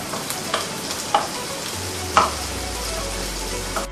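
Rabbit pieces browning in butter in a pan give a soft continuous sizzle, with a few sharp clicks and taps from turning the meat and a low hum rising in the background.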